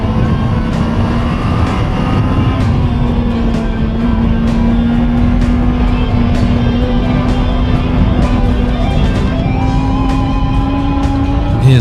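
Sport motorbikes, a Honda Blade, Kawasaki ZXR and Suzuki GSXR, racing on a circuit, a loud continuous engine whine held at high revs with a sustained rising tone, near and unbroken, with no talk.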